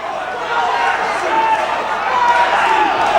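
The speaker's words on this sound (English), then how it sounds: "Listen to this crowd." Live wrestling event crowd roaring in an arena, a dense sustained din of cheering and chatter that swells slightly toward the end, with a commentator's voice talking over it.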